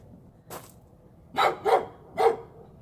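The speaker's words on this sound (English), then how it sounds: "Sorry about the neighbor's dog." A neighbor's dog barks four times from a middle distance: one short bark, a pause, then three louder barks in quick succession over a quiet background.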